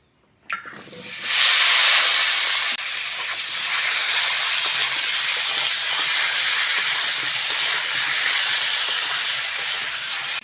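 A loud burst of sizzling as ridge gourd and potatoes hit hot oil tempered with five-spice, settling into a continuous close hiss and crackle.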